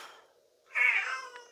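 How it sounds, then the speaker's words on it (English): A cat yowling from inside a bathtub, one loud drawn-out meow with a faint lead-in, ringing slightly off the tub walls in a quiet room. "If you heard that, that's my cat Tonka sitting in the bathtub, yelling for no reason that I can see."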